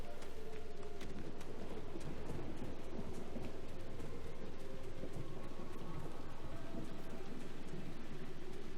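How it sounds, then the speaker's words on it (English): Storm rain and thunder from lightning striking close by in the video game Dragon Age: Inquisition: a steady, heavy patter of rain layered over low rumbling thunder, continuous and unbroken, with no speech. "This lightning is striking so close."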